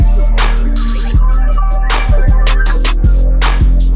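An experimental trap beat plays on its own at high volume, with heavy sustained 808 bass notes changing pitch every second or so, punchy drum hits and bright layered melodic samples over a steady rhythm.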